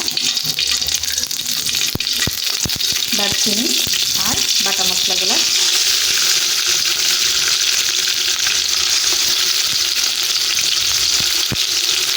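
Bay leaves dropped into hot oil in a wok sizzle loudly and steadily for the whole stretch, with a burst of stirring and spattering near the start while Bengali chicken tehari is being cooked; no one speaks.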